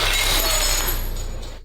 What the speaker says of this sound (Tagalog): Basag mo pala ang alak.